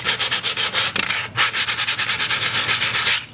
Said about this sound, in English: We're going to take our sandpaper,